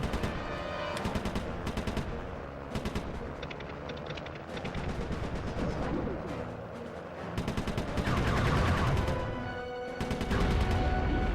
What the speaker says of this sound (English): Fire machine gun.